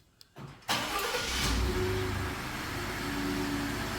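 A Ford F-150 2.7 EcoBoost truck engine cranks briefly, catches and roars to life, then settles into a steady idle, close and loud.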